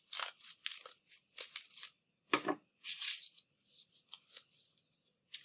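Scissors snip through folded paper to trim triangles from a paper snowflake, a series of close, crisp crunching cuts and rustles coming in short irregular bursts with brief pauses between them.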